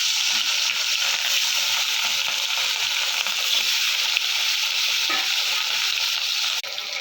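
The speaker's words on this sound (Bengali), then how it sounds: "তেলটা গরম হয়ে গেছে, হালকা করে একটু ভেজে নেব।" Fish fries lightly in hot oil in a wok with a loud, even, unbroken hiss of sizzling that runs the whole time, ending with a slight drop in level.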